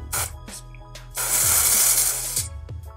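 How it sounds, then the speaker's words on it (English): Mist foundation sprayed onto a makeup brush: one close, loud hissing burst of about a second, with faint rustling and small handling noises before and after. "And now I'm gonna spray on the brush."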